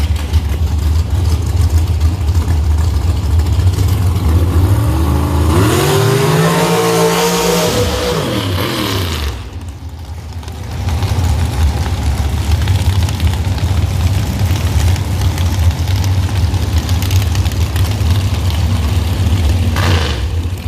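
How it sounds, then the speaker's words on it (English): A drag-racing dragster with a small nitrous bottle roars loud and close at Beech Bend Raceway during an outlaw drag racing event. A rising engine sweep midway briefly drops off before the heavy rumble returns and holds. "Left lane dragster gets the win."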